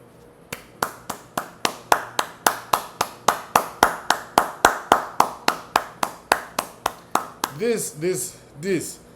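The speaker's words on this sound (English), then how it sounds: "She deserves applause. Yeah, applause." A single pair of hands claps in a fast, even rhythm, about two dozen crisp close claps, before a voice breaks in at the end.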